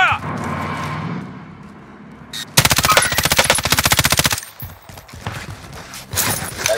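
Automatic gunfire in the battle royale shooter Warzone Caldera, a loud rapid burst of machine-gun shots lasting nearly two seconds amid game noise, with quieter scattered shots afterward.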